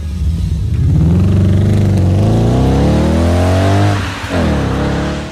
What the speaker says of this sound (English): And yeah, that sound is coming out of an Audi.